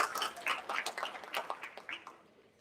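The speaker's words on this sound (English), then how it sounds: "let's give them a round of applause" Audience applause at a school district board meeting honoring the Rancho School community: a burst of many scattered claps that starts full and gradually thins and fades away.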